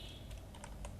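A few quick keystrokes on a computer keyboard, quiet and close, as a Fiverr gig title is typed.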